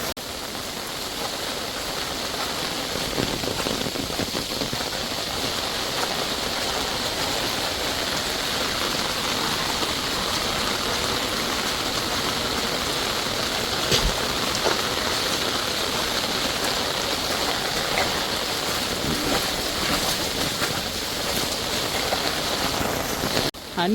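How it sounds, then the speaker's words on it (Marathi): River floodwater rushes through a village with a constant broad roar that holds steady from start to finish, with faint scattered knocks and no speech. "हा बघा किती सारा पाणी आलेला आहे तो नदीचा अख्ख्या गावामध्ये."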